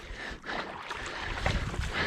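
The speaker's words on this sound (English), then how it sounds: "reasons I'm out paddling today is just to practice some entries into the surf ski" Surf ski paddling on water in the Royal National Park, with soft splashing and rushing water close by, mixed with wind noise.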